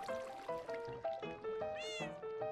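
A kitten in Minecraft 1.19 meows in a quick run of short, tonal calls, about six in a row, ending in one higher, stretched meow. The calls are clear and close.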